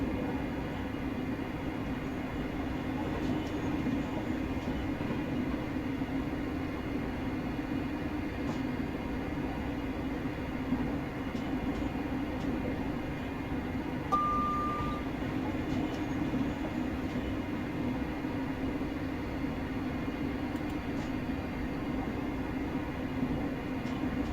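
A Class 385 electric train in Train Simulator Classic on a single-track branch line, a steady low rumble and hum of the running train throughout, continuous and even, with no voices.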